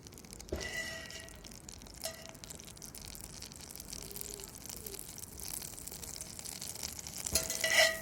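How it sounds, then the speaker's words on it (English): Butter melting in a skillet over a rocket stove gives a soft, steady sizzle with faint crackles throughout, and a few louder clanks and scrapes break in near the start and the end. "You can see it's bubbling, so I want to make sure it's evenly hot over everywhere"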